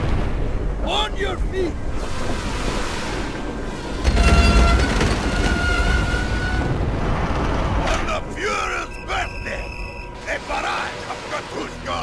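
A train rides through a war-game scene in Call of Duty: World at War, a steady low rumble with rattling and clanks under a man's speech, plus a brief heavier jolt partway through.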